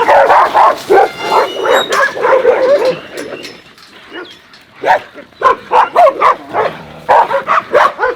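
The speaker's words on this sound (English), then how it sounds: "We're gonna unload these dogs." Hunting dogs barking, yipping and whining excitedly at close range while being unloaded, with bursts of barks coming in quick irregular runs and brief pauses between them.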